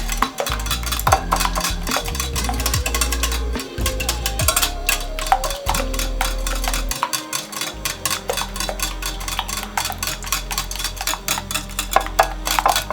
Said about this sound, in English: Also ensure to mix that very well.